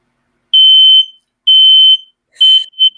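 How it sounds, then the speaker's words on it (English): A household smoke alarm goes off with loud, piercing electronic beeps: two long tones about a second apart, then two shorter chirps, each alone against silence. "My fire alarm is going off."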